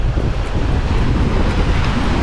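Strong wind in Tanauan, Leyte buffets the microphone as a continuous, loud, rumbling roar with slight gusting. It carries on without pause and with no voices.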